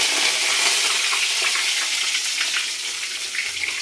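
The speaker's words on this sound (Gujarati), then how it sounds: "હિંગ તેલ ફૂલ ગરમ આવી ગયું છે હવે નાખી દઉં મીઠો લીમડો" Curry leaves dropped into very hot oil with asafoetida and mustard seeds, giving a loud continuous sizzle and crackle close by.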